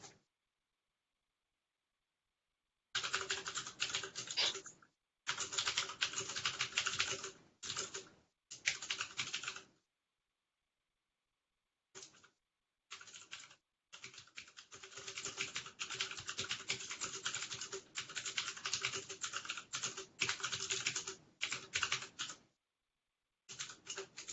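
Typing on a computer keyboard during an online meeting, bursts of rapid close key clicks separated by silent pauses, steady and fairly quiet with no talk.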